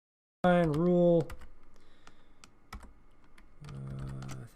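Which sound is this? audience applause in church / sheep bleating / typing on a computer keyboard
typing on a computer keyboard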